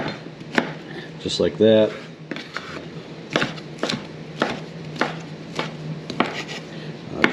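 A knife cutting through a baked potato on a board for potato salad, with several sharp, separate taps of the blade against the board spread out over time. Someone talks briefly.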